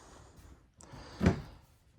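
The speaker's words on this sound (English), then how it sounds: "Some more hanging storage, and then you have 3 more drawers. They're nice and deep though" A deep drawer slides and shuts with a single muffled thump in the interior of a 2026 Forest River Sabre 37FLF RV, preceded by a faint click and light sliding noise in a quiet room.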